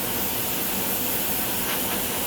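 An airbrush sprays paint in a smooth, unbroken hiss with no sputtering, steady and close with nothing else heard.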